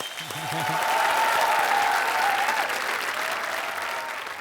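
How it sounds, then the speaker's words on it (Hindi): A studio audience on a TV game show bursts into sustained applause, swelling early and holding steady and loud, with a brief musical sting at the start and a held tone in the background. "तालियां उनके लिए।"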